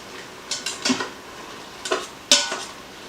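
Mushrooms, onion, garlic and ginger cook in an Instant Pot, marked by a handful of sharp utensil scrapes and clinks against the pot in small clusters over a quiet background, close by, with no talking.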